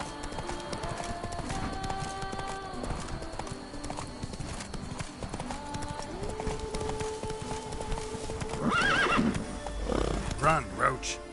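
In The Witcher 3, the horse Roach gallops with steady, rapid hoofbeats and gives a loud, close whinny near the end, all beneath game music and some voice activity.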